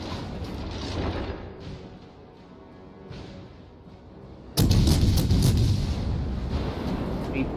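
Naval guns of a British heavy cruiser boom in World of Warships Legends, a rumbling battle bed building to a loud, sudden salvo midway that keeps roaring with crackling blasts, with faint voices underneath.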